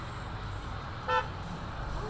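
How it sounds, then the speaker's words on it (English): A single short car horn beep sounds in the distance at a UK roundabout over steady road and engine rumble. "Here we get beeped at by some impatient person at a roundabout"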